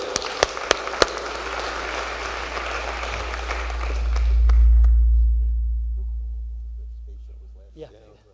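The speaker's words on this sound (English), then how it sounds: "A really big round of applause for Dan." Audience applause at a panel event for Dan the editor, a few sharp near claps within broad clapping that fades over several seconds, with a low hum swelling underneath and brief speech near the end.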